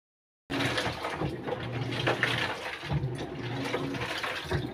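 Water rushes and splashes steadily while laundry is rinsed by hand, starting abruptly after a moment of silence and continuing fairly loud and close.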